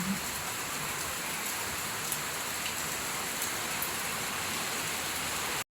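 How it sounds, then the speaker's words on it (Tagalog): Steady rain falls across the whole stretch, a dense even hiss of drops on surfaces, fairly close, with no voices. "So, maulan na araw guys dito sa atin."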